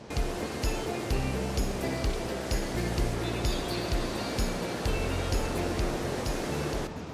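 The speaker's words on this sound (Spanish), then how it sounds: "miren lo que es el cañón en el que nos estamos metiendo con el río en el medio" A river runs through a mountain canyon on the Salkantay trek, a steady, loud, broadband rush of water that fills the whole stretch without pause.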